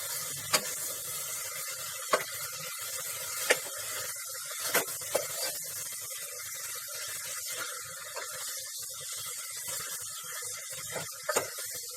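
Kohlrabi (monji haakh, Kashmiri style) being stir-fried in a pan and turned by hand, giving a faint, steady sizzling hiss broken by a few sharp clicks and scrapes, with no talking.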